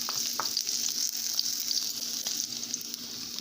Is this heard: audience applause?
no